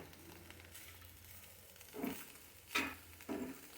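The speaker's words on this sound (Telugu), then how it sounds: "కూర మంచిగా వేగుతుంది" Jackfruit curry (panasa pottu) fries quietly in a pan, a soft low sizzle with three brief louder bursts of stirring or scraping near the end.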